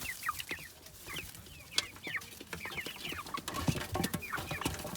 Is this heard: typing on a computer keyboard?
no